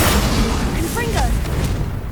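A Confringo fire spell blast in Hogwarts Legacy, a video game, lands as a loud boom over thick low rumble, trailed by a brief whooshing, rising tone.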